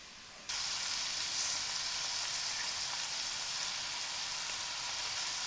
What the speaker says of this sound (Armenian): Այ հիմա ավելացնում ենք բրինձը։